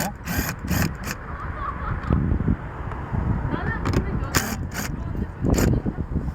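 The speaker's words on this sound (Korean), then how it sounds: "그 다음에 1 0 m m 복스인데 여기 깊이가 있기 때문에 약간 롱복스가 더 좋아요" A 10 mm long socket wrench loosens a bolt on a Kia K5 side mirror, making loud, close ratcheting clicks and metallic knocks in repeated bursts, with a voice speaking in between.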